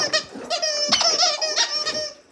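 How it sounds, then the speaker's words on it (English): A squeaky dog toy squeaks loudly and repeatedly in quick, uneven bursts, close up, with no talking over it. "Yeah, you like that squeaky toy, don't you?"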